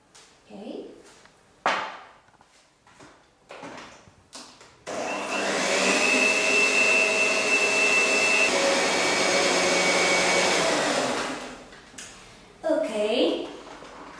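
An electric mixer beating chocolate cupcake batter, a loud steady whirring drone lasting several seconds after scattered clatter, with people talking before and after it runs.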